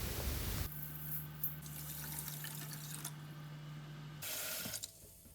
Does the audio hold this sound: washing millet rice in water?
yes